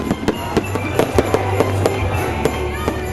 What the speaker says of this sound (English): The tree lighting event was then concluded with a bright fireworks display behind the brightly lit Christmas trees.